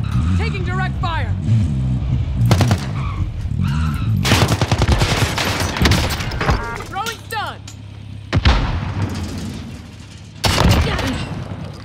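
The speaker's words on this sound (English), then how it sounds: "Taking direct fire!" Repeated bursts of loud gunfire and booms in a Call of Duty: Warzone match, some close and sharp, mixed with excited players talking and shouting over the shots.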